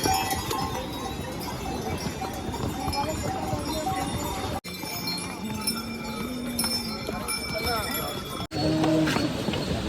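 Horse hooves clip-clopping along the Kedarnath pilgrimage trail, a steady rhythm of hoof steps mixed with bells and background voices of a busy crowd, with people talking nearby throughout.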